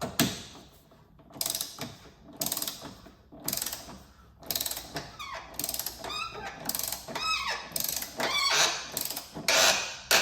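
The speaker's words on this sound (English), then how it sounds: "I'm gonna tighten this down to 20 foot-pounds first." A ratchet clicks in repeated bursts while tightening the centre bolt of a BFI Stage 1 engine mount on a VW MK7. The short pawl-clicking strokes come close and clear, separated by brief pauses, with no talking.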